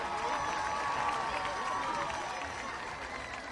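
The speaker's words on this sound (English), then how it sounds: "Nice round of applause tonight for your 7th and 8th grade football Tigers." Crowd at a 7th and 8th grade youth football game applauding and cheering, a broad, moderately distant wash of clapping and voices that stays even throughout.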